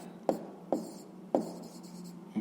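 Handwriting during a sixth-grade math exercise: four separate scratchy pen strokes on paper, close and fairly soft, spaced irregularly with quiet pauses between them and no voices.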